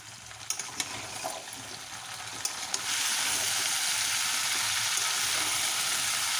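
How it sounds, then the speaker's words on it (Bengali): Vegetables with turmeric powder are stirred in a hot pan for a drumstick curry, light scraping and clinks over a sizzle that suddenly swells into a loud, steady hiss for the last few seconds, close up with no voices. "সবজিগুলো ভালো করে তলার উপর করে নাড়িয়ে চাড়িয়ে দেবো।"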